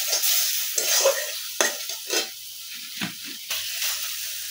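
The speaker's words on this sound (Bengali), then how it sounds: "এই গরম মশলাটাকে একটু কষিয়ে নিব" Garam masala with ginger, cumin and chili pastes sautés and is stirred in a pan, a close sizzle broken by several scraping stirs, with no talk.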